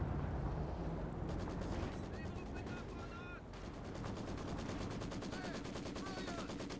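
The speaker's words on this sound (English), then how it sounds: "Maxim has Overwatch, pushes them back." Maxim machine gun fire in Company of Heroes 2, a dense stream of rapid rattling bursts running steadily through a busy battlefield mix with other weapons, at moderate level.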